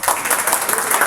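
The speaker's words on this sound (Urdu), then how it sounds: "ذرا پنجاب گورنمنٹ کے لیے اور ذرا اس کے لیے تالیاں ہو جائیں" An audience at a dialysis seminar in Punjab claps in a dense burst of applause, loud and steady for the whole short stretch.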